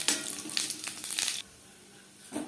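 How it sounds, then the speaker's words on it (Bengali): Dried red chillies and whole cumin seeds sizzle in hot oil in a kadai that was just used to fry fish. A loud, crackling hiss cuts off abruptly and then returns briefly. "মাছ ভেজে নেওয়া কড়াইতে আবারও তেল দিয়েছি। ফোড়নে দিয়ে দেবো শুকনো লঙ্কা, গোটা জিরে।"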